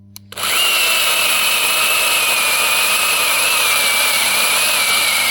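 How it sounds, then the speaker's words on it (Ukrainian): An AL-KO cordless mini chainsaw starts up after a brief click and runs at a steady high-pitched electric whine, close and loud, spinning without load near a cherry tree with small branches. "В основному призначення цієї пили для ось таких невеличких гілочок."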